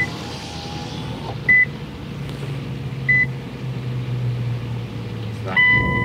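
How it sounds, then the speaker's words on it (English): A Nissan GT-R's interior warning chime beeps in short, evenly spaced electronic tones, with the window just rolled down, over a steady low engine idle hum, the beeps repeating several times. "It's beeping."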